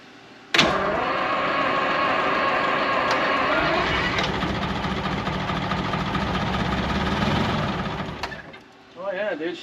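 A Detroit Diesel 12V71 in a 1973 Peterbilt 352 cabover cranks and catches, then drones loudly and steadily for several seconds before suddenly dropping away, with a brief voice at the end.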